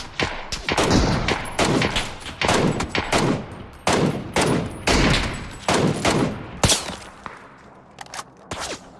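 Rapid bursts of gunfire ring out in the battle royale game PUBG, loud close shots and short volleys fired in irregular clusters one after another with almost no pause.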